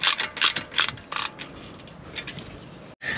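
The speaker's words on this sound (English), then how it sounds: "So we're gonna go ahead and give you a torque spec and we're gonna torque those down." A ratchet wrench tightens the rear sport brake caliper bolts on a BMW, with short bursts of rapid clicking separated by pauses, close and clear with no talking.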